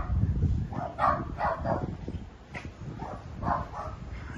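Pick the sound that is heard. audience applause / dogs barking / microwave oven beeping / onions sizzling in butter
dogs barking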